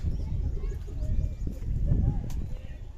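Pigeons coo and call inside a pigeon house, a soft, busy murmur of overlapping birds at close range with faint shuffling underneath.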